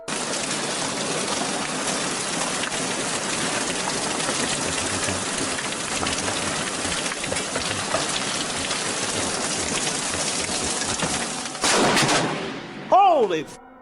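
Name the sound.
hailstorm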